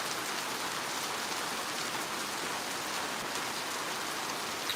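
Steady, dense rain falling in the Jamaican mountains near a river, a continuous even hiss of drops on surfaces, moderately close with no talk and no breaks.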